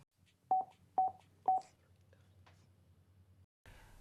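Three short, evenly spaced beeps from a Cardo FREECOM 2 motorcycle intercom as its phone button is tapped to trigger speed dial, clear against a quiet hum, followed by a faint hiss.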